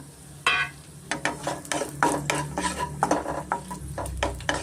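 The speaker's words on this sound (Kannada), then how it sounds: "ಇದಕ್ಕೆ ನಾನು ದ್ರಾಕ್ಷಿ ಸೇರಿಸ್ಕೊತಾ ಇದ್ದೀನಿ" Raisins fried in a pan for carrot halwa, stirred with a utensil: repeated scraping strokes in an uneven rhythm over a gentle sizzle, close and clear, with no talk.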